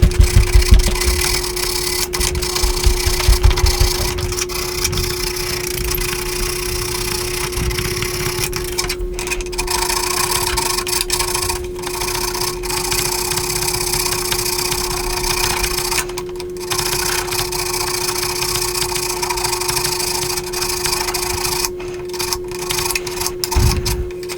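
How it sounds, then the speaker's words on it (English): Steady abrasive rasping of sandpaper being rubbed by hand while smoothing a part during installation of a GIME-Z FPGA replacement board, continuous and close for the whole stretch with a constant electrical hum beneath and no talking. "I'm just using the sandpaper to show that it can be"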